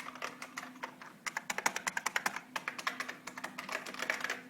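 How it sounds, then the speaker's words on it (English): Someone types in quick, irregular bursts on an IBM Model M keyboard, each buckling-spring key giving a sharp, clicky clack, close and clear against a faint steady hum. "Let's go into Get It text editor and just type some stuff."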